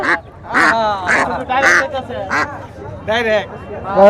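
Caged domestic ducks at a rural Bangladeshi village market, sold alongside geese and chickens, give repeated nasal quacking calls in short bursts, close and fairly loud, with people talking nearby.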